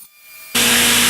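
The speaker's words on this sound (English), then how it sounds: "So we'll go ahead and put this at a diagonal, and then we'll go ahead and make our first cut." A table saw making a diagonal cut through wood for a DIY shop stool, a loud steady blade whine with broadband hiss that starts abruptly midway and fills the rest of the moment.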